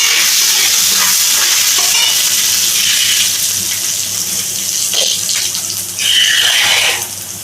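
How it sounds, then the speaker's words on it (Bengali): Chopped ginger and tempering spices frying in hot oil for Bengali begun bahar, a continuous loud hiss and crackle with a few sharper spits and stirring scrapes, ebbing slightly toward the end. "তেলের মধ্যে একটু আদা কুচি দিয়ে দিলাম"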